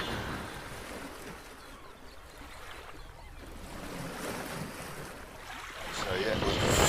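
A sailing boat under way in a strong breeze, its engine also running, gives a steady roar of wind buffeting the microphone and water rushing past the hull, growing louder toward the end.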